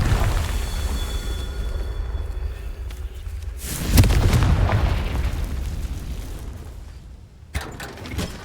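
A Confringo blasting spell explodes in the Hogwarts Legacy catacombs, a loud booming burst that rumbles and fades over several seconds amid a low ambient drone, with a sharp pop near the end.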